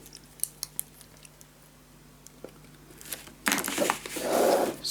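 Scissors cut paper for a scrapbook mini album, with a few faint snips early on and then a louder, denser rush of close cutting and rustling near the end, with no talking.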